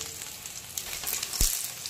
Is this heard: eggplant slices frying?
yes